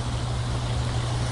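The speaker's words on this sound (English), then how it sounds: "It's the sound of the water on the waterfall" Steady, dense rushing of falling water, a constant broadband roar with no other sounds over it.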